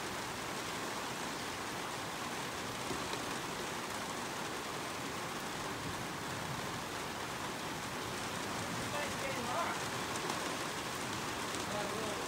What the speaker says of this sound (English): I think raining again.